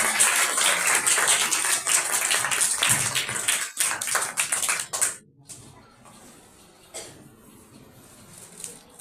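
A church congregation at a Palm Sunday service bursts into loud, dense applause for about five seconds, then it cuts off abruptly into a quiet room with a few faint taps.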